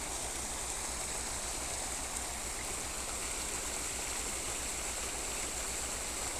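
Late spring runoff in New Hampshire spills over a culvert pipe blocked by beaver debris, making a steady, close rushing of flowing water with no voices.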